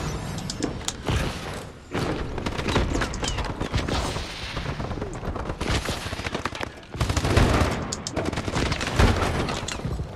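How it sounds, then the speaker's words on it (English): Rapid gunfire from Call of Duty: Advanced Warfare rattles in dense, loud automatic bursts across the whole stretch, with brief dips between volleys and heavy thuds mixed in. "I'm shooting like a madman."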